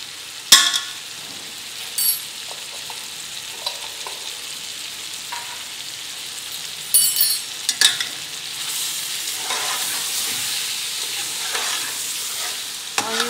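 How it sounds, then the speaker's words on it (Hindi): Meat frying with spices and dried coriander for Afghani pulao, a steady sizzle carrying through with a few sharp stirring scrapes and clinks of a spoon against the pot. "अब इसे हम अच्छी तरह से फ्राई करेंगे"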